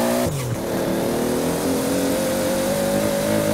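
A human voice imitates a Toyota Supra engine revving hard while racing in Forza Horizon 4, a loud sustained rising whine with a brief dip early on, carrying steadily on its own.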